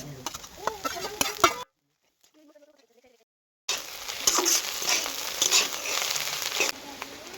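Shredded cabbage fries in ghee in a pan while being stirred, a steady crackling sizzle with scraping utensil sounds, broken by a short silent gap before the frying resumes loudly.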